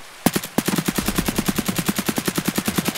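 Automatic weapon fire in the shooter game Escape from Tarkov: two sharp opening shots, then a steady rapid stream of rounds hammering out loud and close in an even, unbroken rhythm.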